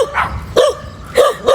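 A small dog barks in short, sharp bursts, three or four yips spread across a couple of seconds, loud and fairly close, inside a laundromat.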